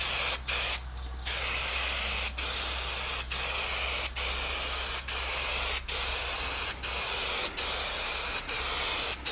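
An aerosol can sprays inside a car interior during a makeover, a loud continuous hiss in long bursts broken by brief pauses, close up, with no talking.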